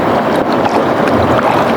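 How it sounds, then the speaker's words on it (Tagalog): Big sea waves and strong wind at a murky, rough coastal fishing spot after rain, a steady loud roar and wash that fills the whole stretch without a break, close to the microphone. "medyo kumalmado yung dagat"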